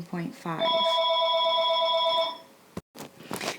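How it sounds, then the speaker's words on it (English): An electronic telephone ringtone trills loudly in steady repeated pulses for about two seconds, interrupting a person talking before and after it. "Sorry about the phone."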